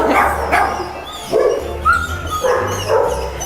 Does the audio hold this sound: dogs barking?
yes